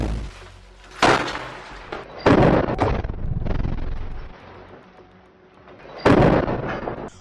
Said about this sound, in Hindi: यहीं से फिर आईडीएफ और हमास के बीच ताबड़तोड़ गोलीबारी शुरू हो जाती है।